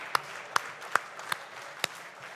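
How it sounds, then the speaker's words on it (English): A few sparse, isolated hand claps follow a short startup pitch at a European conference, five or so sharp, widely spaced claps over a quiet room rather than full applause. "Round of applause, please"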